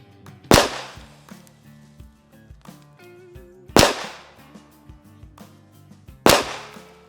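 Three sharp, loud pistol shots at an outdoor range while a red dot sight is zeroed, spaced roughly three seconds apart, each ringing off with a decaying echo and faint background noise between them.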